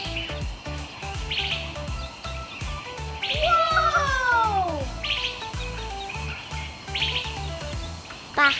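Bird calls with a sweeping, rising and falling whistle in the middle and short bright chirps, loud and close over a steady music bed, with no talking.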